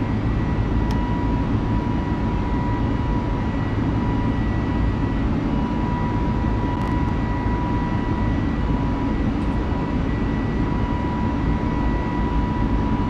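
Airbus A320 jet climbing after takeoff in Microsoft Flight Simulator 2020, heard as a steady, loud, broadband engine roar with a faint tonal whine, continuous throughout with no talk.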